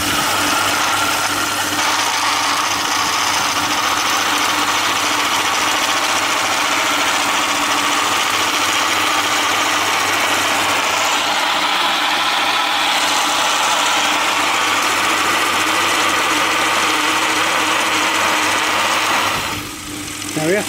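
A lathe spins an arrow shaft held in a tapering jig, giving a steady, loud mechanical whir and vibration that runs continuously before dropping briefly near the end, with no speech over it.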